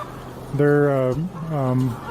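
Laying hens clucking inside an egg farm facility housing roughly 7,000 birds, two drawn-out, harmonic calls close by over a steady background hum of the flock.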